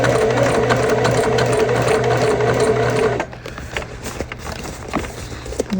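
Sewing machine stitching a bag lining runs in a steady, loud, rapid whir for about three seconds, then stops, leaving quieter handling noises and faint rustling.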